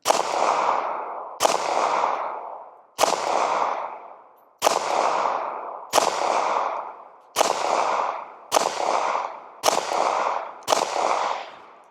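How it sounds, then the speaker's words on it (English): A Ruger LCP MAX pistol fired with an extended magazine, nine loud sharp gunshots in steady succession about one and a half seconds apart, each with a ringing decaying tail, no talking. "And let's shoot 13 rounds."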